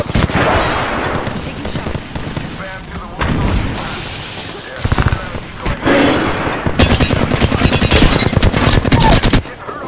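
Rapid automatic gunfire in an Apex Legends match, loud and close in sustained bursts with booming impacts, while a voice talks over parts of it.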